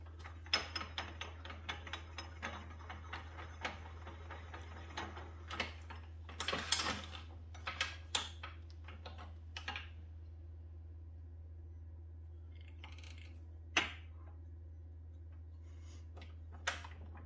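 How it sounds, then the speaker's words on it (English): A small lathe runs at about 2500 rpm, turning the tenon of a fountain pen nib section with a parting tool. It gives a faint, steady low hum with scattered light clicks and ticks, quieter toward the end. "So I'll be using my parting tool for this. Lathe running about 2500."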